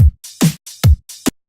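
A short drum groove accented on the downbeats: four hits with deep kick-like thumps on the strong beats and lighter snappy strokes between, loud and close, no voices.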